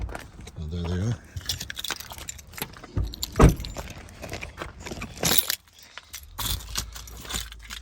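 Truck keys jangle and clink in short bursts near a 2016 Chevrolet Silverado during a third brake light installation, while someone talks over the rattling.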